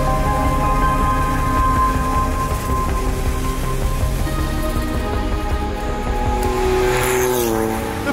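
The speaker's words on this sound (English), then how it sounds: "I'm driving not just a car, but" A road-legal Porsche 962 Group C race car drives on public streets, its engine giving a loud, continuous harmonic drone with pitch rising and falling through gear changes, close to the listener and without any talk.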